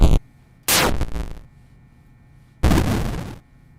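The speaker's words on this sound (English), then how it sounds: "So I'm going to save that one as Cannonball Explode." A cannonball explosion sound effect synthesized in as3sfxr plays as three loud, crackling noise bursts: a brief first one, then a longer decaying blast, then a final long burst, with silence in between.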